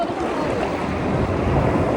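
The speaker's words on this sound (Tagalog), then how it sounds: "Ay, may alon tayo." Ocean waves wash onto the beach at San Felipe, Zambales, as a steady, loud broadband rush with wind buffeting the microphone throughout.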